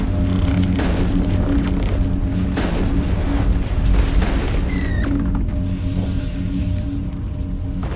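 Gunfire from the sci-fi shooter game Mass Effect, set on the outside of the Citadel, with repeated booming shots and blasts over a dense, constant rumble of game music and ambience, loud throughout with no talking.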